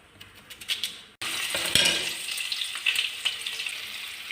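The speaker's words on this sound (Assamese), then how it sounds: "এতিয়া ঢেকীয়া শাকখিনি বহাই দিছে।" Fiddlehead fern greens frying in a pan, a close steady sizzle with crackling spits and light scraping of a utensil, starting quietly and swelling louder after a second, no talk.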